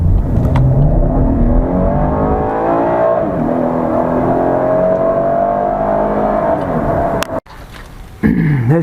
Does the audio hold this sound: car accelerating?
yes